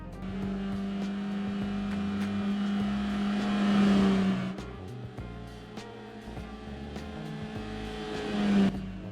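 A stock 2001 Honda Fit (Jazz) city car driven in Gran Turismo 4, its engine note rising steadily under acceleration, dropping at a gear change, then climbing again to a peak near the end.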